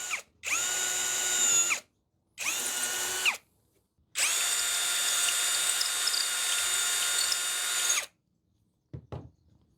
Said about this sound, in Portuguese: E assim eu consigo uma furação minimamente decente usando furadeira manual